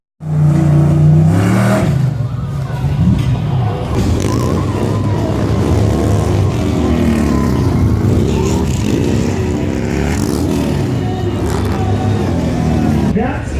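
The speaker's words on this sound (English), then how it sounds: "some trucks are doing burnouts and stuff. Really loud." Race car and truck engines roar loudly and continuously at a NASCAR race as trucks do burnouts, a dense, sustained rumble with surging revs throughout.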